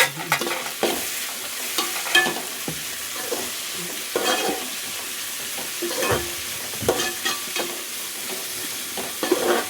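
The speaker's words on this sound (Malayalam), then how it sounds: "ഇതൊന്ന് വാടി വരട്ടെ. വഴറ്റാം." A single tomato sautéing in a pan for a clam thoran, a continuous close sizzle broken by repeated scraping stirs of a spatula, with no talking.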